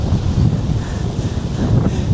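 Strong wind outdoors at Scenic World in the Blue Mountains buffets the microphone with a loud, continuous, rumbling roar throughout.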